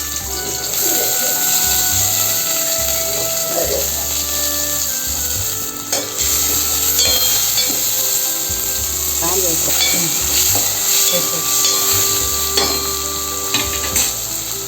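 Chopped onions frying in a pan at the start of a Telugu-style dabba (citron) curry, with a steady close sizzle and scraping stirring strokes running throughout, under some background voice.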